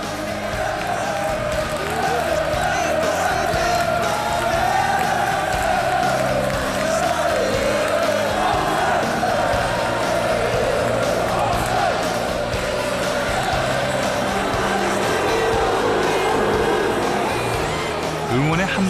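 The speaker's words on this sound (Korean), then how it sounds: "응원의 함성과 아낌없는 야유가 관중석을 달굴 무렵" Packed English football stadium crowd during a Bolton match, a dense continuous roar of cheering and jeering fans that holds steady throughout with shifting swells of voices.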